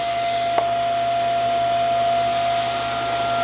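A running power saw hums steadily with a bright whine, and one brief contact tick comes as a board's edge is pushed into the blade to shave it square, with no talking.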